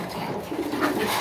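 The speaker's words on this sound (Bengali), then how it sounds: "কবুতর গুলো অনেক সুন্দর।" Pigeons on a pigeon farm give a brief, close, low throaty cooing over a busy background.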